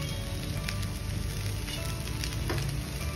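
Kande pohe sautéed in a pan with sugar and coriander, a steady, continuous sizzle throughout with faint scraping touches and no voices.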